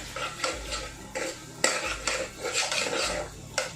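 Red chilli powder, salt and other spices mixed with a spoon in a pan, close metallic scrapes and clinks in quick irregular strokes with no talking.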